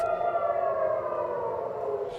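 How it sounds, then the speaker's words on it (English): Air raid sirens wail across Tel Aviv during rocket fire from Hezbollah, a steady sustained tone slowly falling in pitch, heard alone without voices. "bomb sirens even sounding in Tel Aviv"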